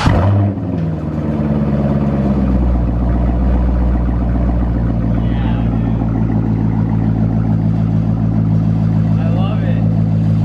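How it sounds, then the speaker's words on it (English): A Corvette C5 with a muffler delete and new exhaust tips idles loudly after starting, a deep, steady, throaty rumble close by with slight rattle, as people talk over it. "we're about to start it up now with these brand new tips"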